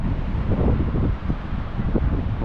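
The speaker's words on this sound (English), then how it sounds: "it's been a very windy day" Strong wind gusts buffet the microphone on a mountain pass in the Wairarapa, a loud low roar that swells and eases without any voices.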